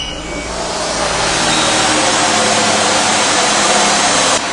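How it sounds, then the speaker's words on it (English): A car engine, under a coolant leak check, runs steadily up close after starting, with a broad, loud, even mechanical roar and no talking. "go ahead and start the car up"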